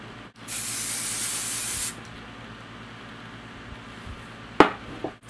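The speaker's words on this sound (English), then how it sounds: "And then we're just going to spray in here." Hairspray hisses from an aerosol can onto short hair in one close, steady burst lasting under two seconds, followed by quiet handling noises and a brief sharp rustle.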